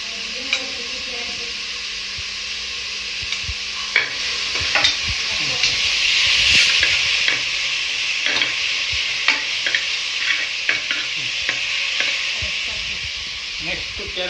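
Capsicum goes into a hot frying pan with onions, sizzling continuously while a utensil scrapes and taps repeatedly against the pan in an uneven stirring rhythm.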